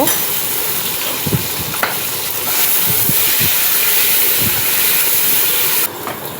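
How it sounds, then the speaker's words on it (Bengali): Eggs coated in salt and turmeric frying in hot oil in a kadai, a loud continuous sizzle with occasional pops and clicks of stirring, close up, with no speech. "এবার ডিমটাকেও একটু লাল করে ভেজে নেব।"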